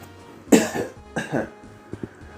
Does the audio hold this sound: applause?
no